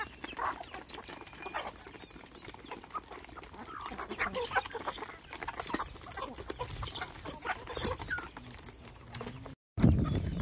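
Desi chickens cluck and chatter at close range while being fed soaked wheat, with scattered pecking and shuffling throughout. Near the end, a brief louder thump breaks in.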